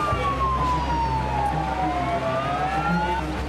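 An ambulance siren wails in a slow, falling and rising sweep, loud and steady over low traffic rumble, with no voices.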